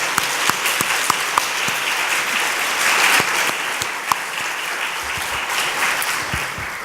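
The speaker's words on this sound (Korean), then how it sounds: "잠깐 일어나서 우리 아이들에게 정말 너무 잘 왔다고 큰 박수로 격려 한번 해주시기 바랍니다." An audience at a Sunday afternoon church gathering claps loudly and steadily for several seconds, a dense continuous round of applause with a few sharper individual claps standing out.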